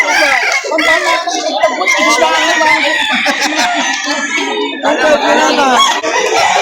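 Chickens and roosters clucking and crowing at a busy poultry market in Lipa City, Batangas, a dense, continuous layer of bird calls mixed with people talking throughout.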